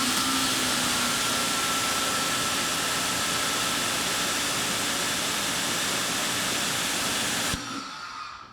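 A Greenworks 1800 psi pressure washer running at about 1600 PSI gives a loud, steady spraying hiss with a faint motor whine that holds evenly and then cuts off near the end.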